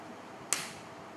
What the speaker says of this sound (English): Every time I clap my hands, write down the first thought that comes into your mind.